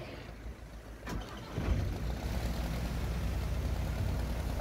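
Fishing boat engine on a lobster and crab boat at Saltburn, being started while the boat is reversed into the water; a short crank at about one second, then a low steady engine rumble that grows slightly and continues.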